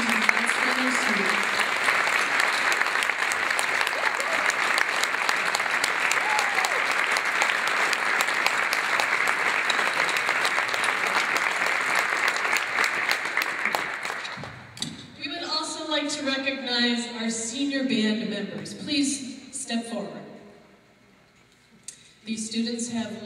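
Audience applause for high school marching band students at a stadium show, dense and steady for about fourteen seconds before fading, after which someone speaks over a quieter hall.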